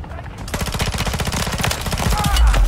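Rapid automatic gunfire from Call of Duty Modern Warfare 3 Zombies, a dense run of close, loud shots in steady rhythm that builds toward a heavy low blast at the end.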